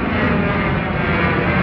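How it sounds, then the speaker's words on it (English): A passenger jet passes overhead as a steady, loud broadband roar with no gaps, heard near a historic motor racing festival paddock. "There's a plane for you."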